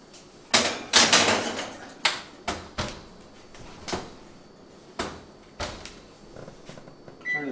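A beef enchilada casserole pushed into a home oven, with a series of sharp knocks, clatters and a door thud spaced through the clip, moderately loud and close, with no talking.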